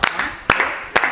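A small group claps together in three sharp, evenly spaced beats, close and loud, as a rhythmic stylized clap during a cheerful family box-opening session.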